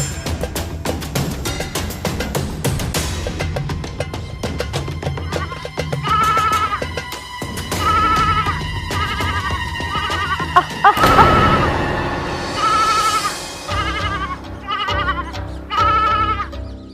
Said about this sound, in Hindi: भेड़े चरा रही हूँ।